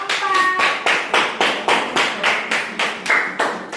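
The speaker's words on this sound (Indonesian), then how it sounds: "Kasih tepuk tangan untuk kelompok" Classroom applause for a student group after their presentation: many hands clap together in a fairly steady, rhythmic pattern of bursts, close and loud, with a few faint voices underneath.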